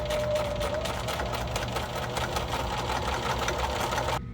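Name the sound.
sewing machine stitching new fabric onto shirt hem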